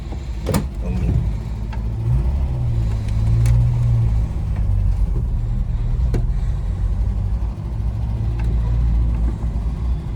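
A classic Ford Escort engine turns over and settles into a steady, rumbling idle, loud and close throughout with a brief rev near the start.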